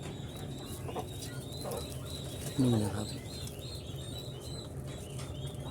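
Turkeys, of several breeds including small American ones, call briefly in the background on a poultry farm, with one louder warbling call in the middle, while someone speaks a few words.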